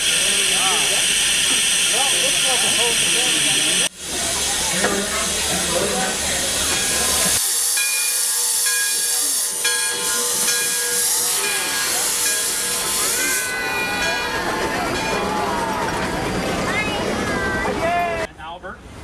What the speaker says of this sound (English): The steam trains climb very steep hills and they're gear driven